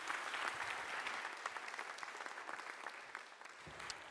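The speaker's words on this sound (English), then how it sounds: "Let's give Aldo a very warm round of applause" Sustained applause from a large audience, dense clapping that swells at the start and gradually thins out over several seconds.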